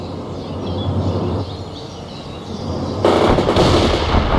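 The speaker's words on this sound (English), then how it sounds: "Launch those grenades now!" Grenades launched in the war strategy game World in Conflict: a steady barrage of gunfire and explosive launches with a sharp, louder burst partway through, sustained battle din throughout.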